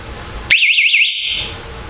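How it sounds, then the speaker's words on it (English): A loud panic alarm on a 15.5-inch stun gun flashlight bursts on abruptly and holds a shrill warbling siren tone for about a second, then fades out, with no talk. "A very loud panic alarm."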